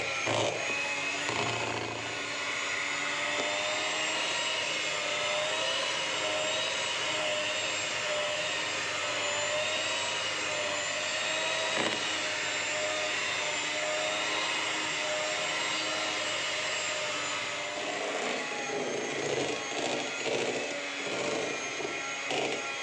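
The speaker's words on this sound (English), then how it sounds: "allow each and every part of the milk slurry to be beaten nicely so that air is being incorporated" An electric mixer beats milk slurry for ice cream, its loud, steady motor whine running unbroken for over twenty seconds with no talking.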